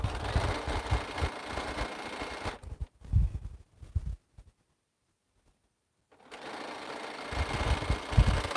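A sewing machine stitches in quick rattling bursts that stop and start, then falls silent for a few seconds before resuming its steady close whir and clatter, with no talking.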